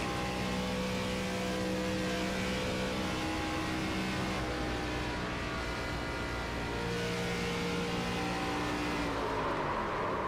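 Onboard race car engine from the iRacing sim at Atlanta Motor Speedway, a loud continuous drone with steady tonal harmonics that hold pitch, dip slightly and swell again near the end, filling the whole stretch with no talk.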